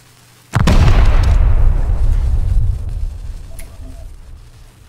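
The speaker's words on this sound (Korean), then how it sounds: "잘 터졌다" A sudden, loud explosion in the survival video game Rust during a raid, booming at once and then rumbling and fading away over several seconds.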